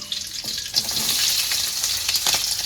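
Green chillies frying in hot oil with mustard seeds and curry leaves for a prawn gravy, a steady close sizzle with crackling spatters and a few brief stirring scrapes.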